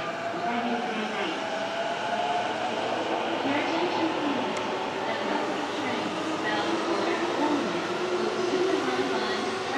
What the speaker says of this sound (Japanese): まもなく3番線に各駅停車青梅行きが参ります。